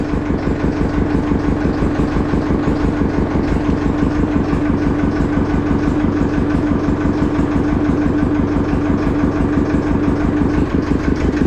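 An Ursus C-330 tractor engine idles loudly and close, its steady rapid chugging pulse unchanging throughout.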